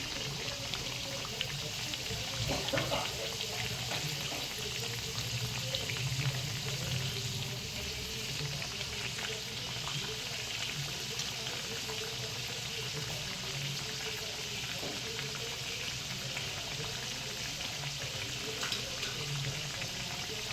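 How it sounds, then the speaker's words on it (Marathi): Kachori made with pigeon pea (tur) filling frying in hot oil over a medium gas flame, giving a steady, even sizzle and crackle that runs unbroken throughout with no talking. "मीडियम गॅसवर छान अशा लालसर तळून घ्यायचे आहे त्याला छान असा कलर येऊ द्यायचा आहे"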